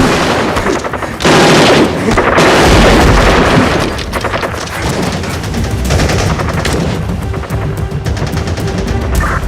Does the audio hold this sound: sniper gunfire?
yes